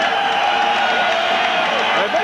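A boxing arena crowd greeting Dave Hilton as he enters the ring, a dense, loud roar of cheering and voices sustained throughout without a break.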